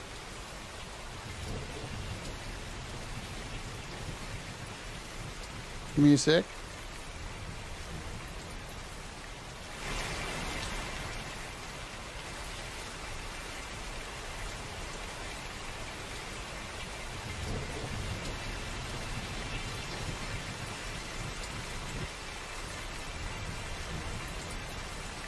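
A rain sound sample played in the Scaler EQ iOS app gives a steady hiss of falling rain with a low thunder rumble partway through, and a voice briefly speaks over it.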